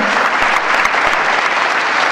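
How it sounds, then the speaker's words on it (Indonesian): Congregation applause during a church worship service, a dense, steady wash of many hands clapping throughout, fairly loud and close, with no talking. "Berikan tepuk tangan bagi Allah kita."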